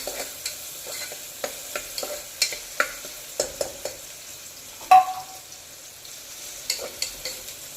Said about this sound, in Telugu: ఇవి కొంచెం రెడ్ కలర్ వచ్చేదాకా వేయించుకోవాలి